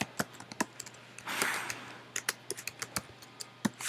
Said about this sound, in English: I'll type a little bit more